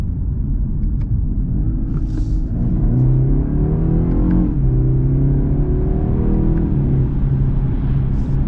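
2022 BMW 430i Gran Coupe accelerating, heard from inside the cabin: a steady loud engine drone rising in pitch through the gears, with a brief dip at a shift, over constant road rumble.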